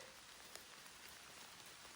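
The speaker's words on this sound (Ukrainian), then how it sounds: "А дощ так гарно розійшовся." Steady rain falls through a forest on a mushroom-picking evening in the Kyiv region, a dense even patter of drops on leaves with no voices, continuous and fairly close across the whole stretch.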